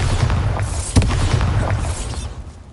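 Bombarda spell explosion in the game Hogwarts Legacy, a loud booming blast with a sharp burst near the start of a rumbling, crackling roar that slowly fades.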